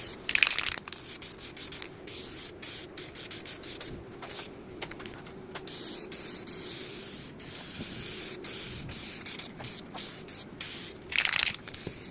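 Spray gun painting a custom truck center console, a 2003-07 Chevy/GMC console fitted to a 1995-98 OBS pickup, giving a steady continuous hiss with brief bursts and pauses throughout.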